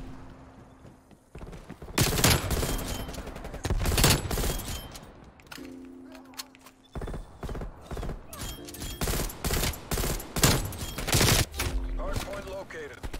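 Automatic weapon fire in the Black Ops Cold War video game, loud close bursts of rapid shots in several strings separated by short quieter gaps.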